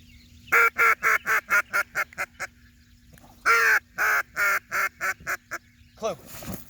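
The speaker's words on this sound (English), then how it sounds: "If you have a duck call, you can blow it." A duck call blown in two bursts of rapid quacks, each run of eight to ten calls tapering off, loud and close, with a steady hum beneath and a short rustle at the end.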